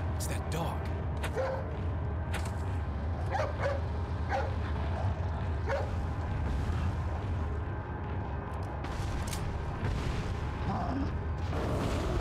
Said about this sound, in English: it's that dog.